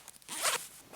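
A single quick zipper sound effect, a bright rasping zip lasting under a second, alone and close.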